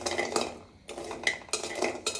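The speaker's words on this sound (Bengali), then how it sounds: "এরকমভাবে নেড়ে চেড়ে আমি ভেজে নিব, একটু লাল লাল করে ভেজে নিব।" Pabda fish being stirred and fried in a little oil in a pan, with utensil scrapes and clinks on the pan in short bursts, a brief quiet gap, then more stirring close by.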